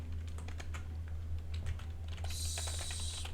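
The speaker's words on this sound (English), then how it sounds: "So okay, I'm just gonna type it." Typing on a computer keyboard while a command to start an Apache Spark master is entered, with a steady run of close, crisp key clicks over a constant low machine hum.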